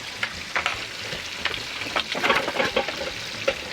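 Chicken sizzles with onions in a large pot for biryani, a crackling, spattering fry close by with irregular bursts as the mix is stirred, and no talk.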